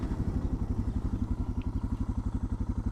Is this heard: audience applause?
no